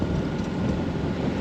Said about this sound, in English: I'm just motoring in,